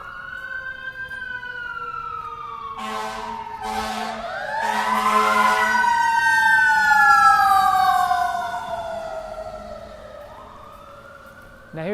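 Emergency vehicle sirens wail and rise and fall in overlapping tones, swelling louder as they pass by, with a brief horn blast mixed in.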